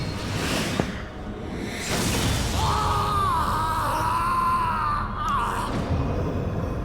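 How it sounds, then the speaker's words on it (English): Enemy death scream in the Final Fantasy XIV video game: a sustained, wavering tonal cry lasting a few seconds over a dense, busy game soundscape with whooshes, loud and close. "Yeah, that was a legit death scream."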